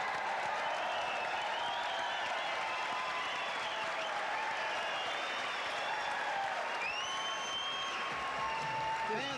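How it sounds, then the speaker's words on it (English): A boxing arena crowd at a WBC Continental Americas super welterweight fight roars and applauds loudly and without a break, with dense clapping and cheering and a commentator's voice likely underneath. "You can just bet you're going to hear a real roar for this crowd when that bell sounds."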